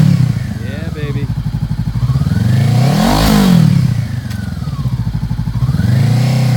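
A used 2014 Honda CBR500R lightweight sport motorcycle engine idles loudly up close with a steady throb, then revs sharply up and back down twice, the pitch sweeping high and falling to idle.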